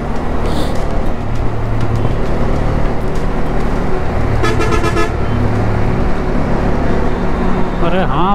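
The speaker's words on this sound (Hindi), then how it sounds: "हॉर्न पे हॉर्न मारे जा रहा है।" Car and bus horns honking repeatedly in heavy Indian highway traffic through an industrial area between Vadodara and Ahmedabad, with rumbling engines and road noise throughout and several sharp toots standing out.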